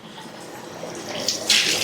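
Water runs from an instant water heater tap into a bucket, a brief splashing flow that grows louder and brighter toward the end, with no talk over it.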